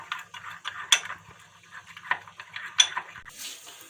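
Ketchup and mayonnaise being mixed in a dish, with light scraping and clinking of a spoon against the bowl in irregular strokes, close and fairly quiet.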